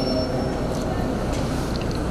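A vintage steam train at Galați gives a steady, loud rumble of rail noise with faint higher clanks on top, continuous and close throughout.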